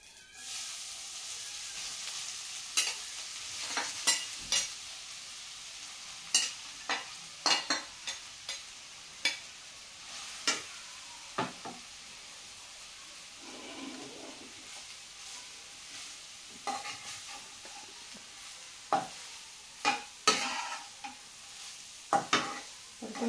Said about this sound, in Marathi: परतून घेऊ आपण याला व्यवस्थित.